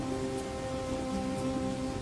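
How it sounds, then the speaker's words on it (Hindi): Heavy rain pours steadily outside, a dense continuous hiss of drops at even loudness, with faint sustained tones humming underneath. "बाहर अब भी मूसलाधार बारिश हो रही थी।"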